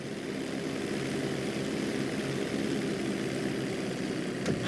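A steady propeller aircraft engine drones on at constant, fairly loud level during a GTA V flight school emergency-landing approach onto a bridge road, with no voices over it.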